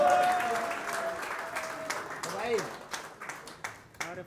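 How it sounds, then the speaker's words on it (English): Steady applause from a crowd at a book launch fills the scene, tapering off toward the end into scattered individual claps, with a voice briefly audible. "Huge round of applause"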